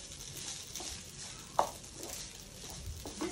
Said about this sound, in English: Mix and see if you have a proper combination of the coconut and the semolina.